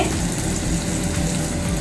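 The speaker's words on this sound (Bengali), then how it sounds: "টমেটো কুচি দিয়ে দিলাম" Chopped tomato hits hot oil in a frying pan while cooking mutton kasha with ginger, giving a steady, close, dense sizzle that holds evenly throughout with no pauses.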